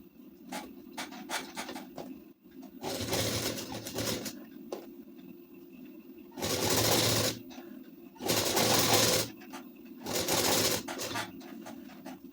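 A sewing machine stitches along the neckline edge of a ladies' suit, running in several loud bursts of whirring with quieter pauses between, close by and with no talk.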